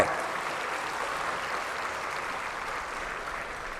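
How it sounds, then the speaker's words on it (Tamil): At an inauguration ceremony, an audience claps in a continuous, even wash of applause that sounds faint and distant, as if heard across a large hall. "கரவொலி மூலமாக"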